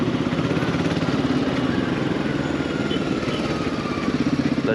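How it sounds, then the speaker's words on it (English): A Royal Enfield Himalayan 450 motorcycle engine with a 49-tooth rear sprocket drones steadily at mid pitch in a higher gear, pulling under load with a rough, throbbing exhaust note and some clatter, no voices. "you can easily be in a higher gear on this motorcycle now"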